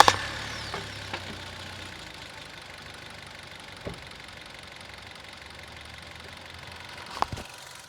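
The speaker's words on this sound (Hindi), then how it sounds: "एक बार स्टार्ट करता हूँ गाड़ी को मैं।" A Maruti Suzuki Victoris LXI CNG car engine turns over with a short starter burst, then settles into a very quiet, steady idle, heard close by, with a couple of faint clicks and no talking.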